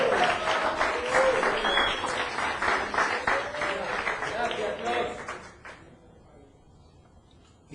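A church congregation applauds in a steady, fairly loud wash of clapping with voices mixed in, which fades out over several seconds into quiet.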